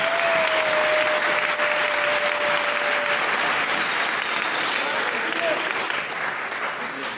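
A church congregation applauding to acclaim the Lord, dense sustained clapping filling the room throughout, with a voice faintly over it.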